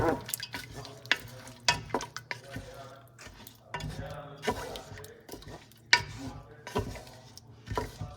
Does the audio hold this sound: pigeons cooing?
no